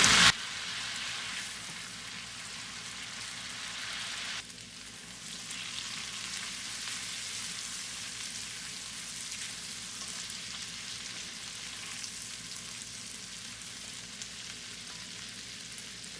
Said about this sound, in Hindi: अदरक लहसुन की पेस्ट को अच्छी तरह से फ्राई करेंगे जब तक इसकी तेल सेपरेट ना हो जाए